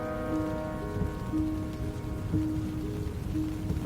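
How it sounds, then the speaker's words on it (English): Steady drizzle patters over a river canyon and onto a Jeep's canvas top, a soft, even hiss of drops with a low tonal hum running beneath it. "Rain drizzled over the canyon of the South Fork of the Ogden River."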